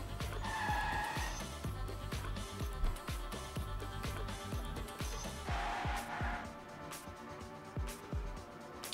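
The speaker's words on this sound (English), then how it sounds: "Will it be enough to Euphoric Mate to finish the race?" Race cars roar around the Monaco circuit in a video game race, engines droning continuously with shifting revs and occasional tire squeals, heard fairly close without talk.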